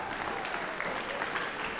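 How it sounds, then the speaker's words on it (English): An audience at a school awards show gives a short round of hand clapping that sounds faint and distant, with a steady, even texture throughout. "That deserves a hand clap."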